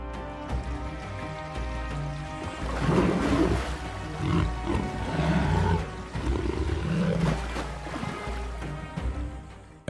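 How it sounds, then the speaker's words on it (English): Big cats roar and snarl while fighting, their heavy growls rising and falling over a steady low rush of river water, continuous and fairly close for the whole stretch. "Roars blend with the sound of rushing water rolling across the reserve like distant thunder."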